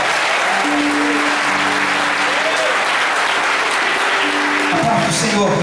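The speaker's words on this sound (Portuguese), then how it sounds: "Você pode aplaudir ao Senhor nesta noite?" A church congregation claps at an evening Portuguese-language service, loud, dense and sustained applause filling the room, with voices and a few sung or called-out tones rising over it.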